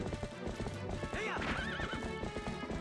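Epona, the horse in the Japanese GameCube version of Zelda: Twilight Princess, gives a loud wavering whinny midway through a steady, rhythmic clip-clop of hooves over in-game music.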